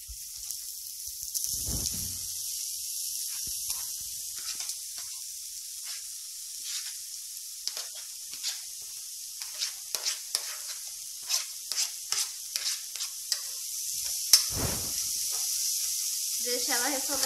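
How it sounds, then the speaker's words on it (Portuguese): Chopped carrot sautéing in a pan for a sweet-and-sour carrot farofa, a steady soft sizzle running throughout with scattered crackles and stirring scrapes, and a brief voice near the end. "Deixa ela refogar um pouquinho também."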